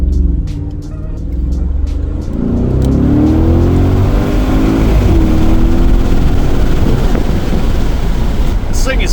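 A tuned Audi SQ7, a heavy three-row SUV, accelerates hard with a loud, rising engine roar that builds and holds close by, and a voice talks briefly over the engine.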